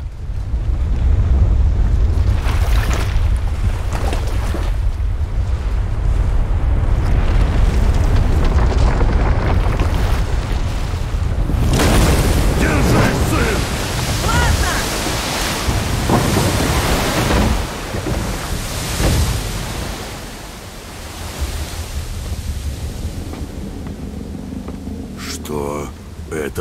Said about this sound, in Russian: Это мировой змей!